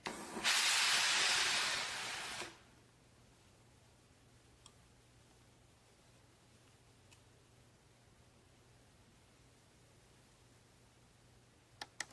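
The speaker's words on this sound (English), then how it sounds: "Iron the collar by flipping it up, spraying with steam" A steam iron gives a loud burst of hissing steam onto a shirt collar for about two seconds, then near silence with a few faint ticks.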